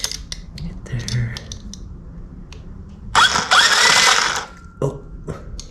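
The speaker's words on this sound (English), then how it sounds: "And turn the motor for the first time, y'all." Small electric motor being powered for the first time in a home workshop, a loud buzzing whir bursting in for about a second and a half amid sparking, with scattered clicks and mechanical ticks before and after.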